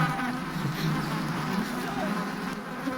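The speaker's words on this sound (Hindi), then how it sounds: "मधुमक्खियों ने हमारी तरफ यूटर्न ले लिया।" A swarm of bees makes a dense, close buzzing drone that holds steady throughout, with faint background noise mixed in.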